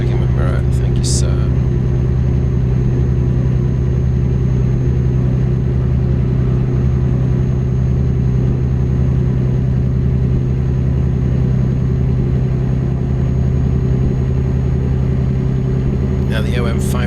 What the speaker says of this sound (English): Now the OM571 is an interesting truck engine because although it's a 6-cylinder, it's not like the normal 6-cylinder heavy-duty truck engine